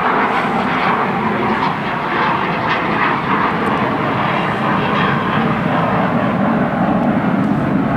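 Loud, continuous roar of military jet aircraft flying overhead, F-16 fighters, a broad steady rumble that holds for the whole stretch with no talking.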